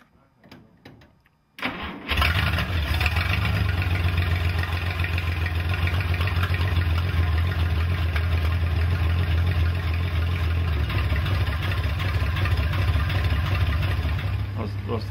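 A 1951 Studebaker Champion engine cranks briefly, then bursts into life and settles into a steady, loud, close idle that runs continuously after starting.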